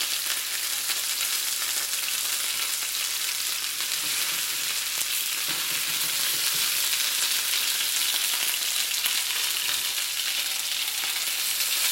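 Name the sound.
chicken wings frying and browning in a pan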